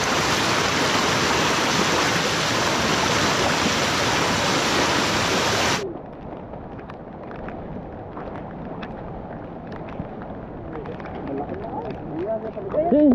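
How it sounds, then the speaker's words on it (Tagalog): Rushing water rising fast in a flooded rice field: a loud, steady broadband roar for about six seconds, then cutting to quieter outdoor ambience with scattered small splashes and faint voices. "Ang bilis lumaki ang tubig."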